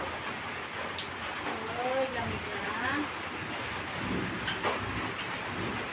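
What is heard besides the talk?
rain falling on a child bathing outdoors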